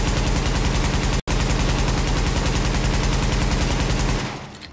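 A SOCOM SCAR L rifle in The Division fires rapidly and steadily for about four seconds, loud and close, with one brief break after the first second and a short tail as the shooting ends.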